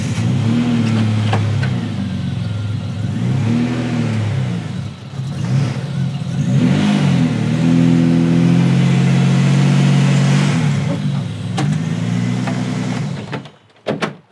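A supercharged BMW E36 track car engine revs repeatedly on a dynamometer, loud and close, rising and falling in long sweeps before cutting off sharply at the end.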